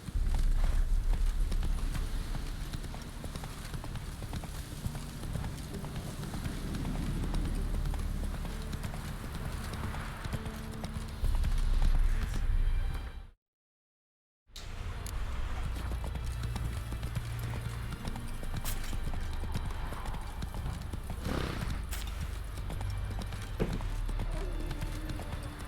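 Galloping hooves of Roach, Geralt's horse in The Witcher 3, pound in a rapid, steady rhythm over game ambience and sporadic voices, broken by a brief second of silence midway before the gallop resumes.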